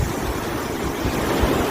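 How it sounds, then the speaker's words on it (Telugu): Rough, storm-driven sea surf rolls onto Visakhapatnam beach near Tenneti Park, heard as a loud, dense, continuous rushing roar with no clear breaks between waves. "అత్యంత భయంకరంగా సముద్ర కెరటాలు వస్తున్నాయి"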